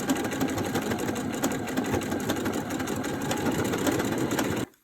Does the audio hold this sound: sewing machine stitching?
yes